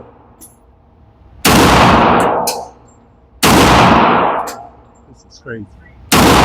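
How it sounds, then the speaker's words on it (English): 1911 single-stack pistols (Ruger, Girsan, Tisas, Taurus) firing at an outdoor shooting range: three loud, sharp shots spaced about two seconds apart, each ringing out with a decaying tail, with brief talk between them. "Let's just do some point and shoot here."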